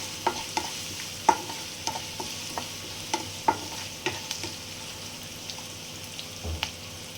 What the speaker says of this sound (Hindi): थोड़ा सा लहसुन को हम सौते करेंगे।